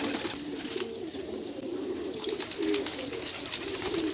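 A pigeon coos in soft, repeated low rolling calls, close by and fairly quiet, over faint background noise with no speech.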